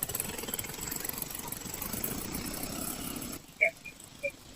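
A motorcycle engine idles with a steady, rough rumble for a few seconds and then cuts out, followed by a couple of brief louder knocks or voice bursts.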